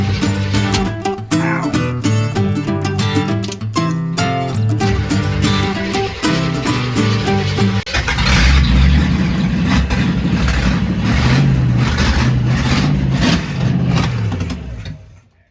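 A Jeep fitted with a Chevrolet V8 small block and 700R4 transmission cranks in rapid rhythmic bursts, then catches and roars into loud, rough revving before cutting off.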